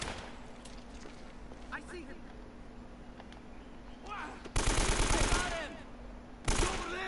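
Bursts of gunfire in the video game Uncharted, a loud crackling volley near the end after quieter background game noise, with voices talking over parts of it.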